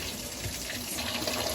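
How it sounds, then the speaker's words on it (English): Hot water running from a kitchen tap into a sink, a steady close hiss and splash that continues without a break for the short clip, with no talk over it. "Get hot water going."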